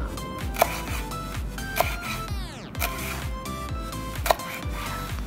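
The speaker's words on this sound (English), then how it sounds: "you want to chop that into fine slices because that looks really good as a garnish on top" A knife chops dark green leafy tops into fine slices on a cutting board for a Korean army base stew, a quick regular run of close taps under a faint background hum.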